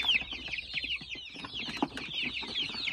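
A group of young chicks for sale peeps continuously, shrill overlapping chirps close by, with a few low clucks mixed in and no talking.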